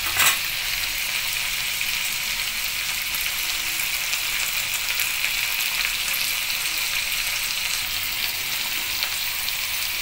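Shrimp frying in a pan for upo soup, giving a continuous close sizzle with a faint crackle, loud and steady from start to finish with a brief clatter at the outset.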